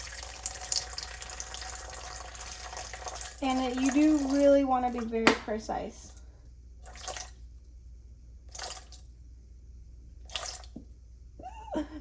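Distilled water is poured into a bowl on a scale for making lavender soap, a short burbling trickle lasting about two seconds while someone speaks quietly, followed by a few soft clinks and handling sounds.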